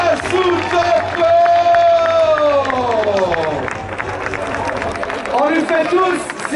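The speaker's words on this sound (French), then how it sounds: "On applaudit Takeshi Yasutoko." A contest crowd claps and cheers for skater Takeshi Yasutoko, with a loud voice over a PA and a whistle-like tone drifting over the applause.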